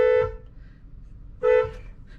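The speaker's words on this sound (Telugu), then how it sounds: "అండ్ ఒకసారి హార్న్ కొట్టి చూద్దాం" A Kia Seltos car horn sounds two short, clear toots about a second apart, close and loud with quiet in between.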